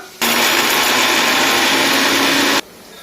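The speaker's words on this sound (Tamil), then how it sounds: "இப்போ நம்ம அதை வந்து மிக்சி ஜாரில் போட்டு நம்ம இப்போ அரைச்சிக்கலாம்" A kitchen mixer grinder whirs loudly and steadily for about two and a half seconds, grinding roasted spices and coconut, starting and stopping abruptly with a constant high motor whine.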